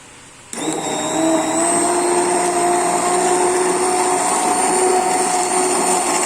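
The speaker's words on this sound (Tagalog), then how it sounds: "I highly suggest that you use a hand blender like this" A hand blender starts abruptly and runs through mushroom soup with a steady, loud motorized whir and high whine, continuing without pause.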